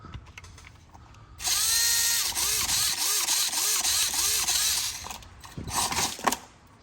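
An FCX24 RC crawler fitted with a K5 speed motor runs with a loud, high-pitched electric whine that rises and falls in rapid pulses as the throttle changes, over gear and drivetrain rattle, close to the listener.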